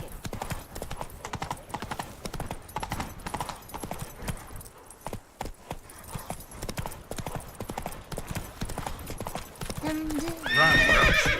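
Roach the horse from The Witcher 3 galloping, with a fast, dense drumming of hooves throughout, close and steady, then a loud neigh near the end.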